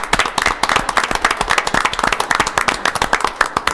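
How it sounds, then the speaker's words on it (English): A round of applause at a council meeting, a small group clapping steadily and briskly nearby, with individual claps distinct and no talking over it. "I think we should have a round of applause for"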